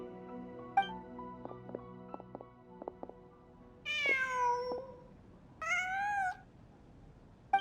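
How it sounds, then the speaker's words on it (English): A cat in the Genshin Impact video game gives two clear, fairly loud meows a second or so apart, after a run of soft plucked musical notes from the game's background music. "Huh. Just a cat."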